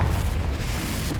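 A Confringo spell explosion in Hogwarts Legacy gives a loud, deep, rumbling boom that holds steady through a brief moment.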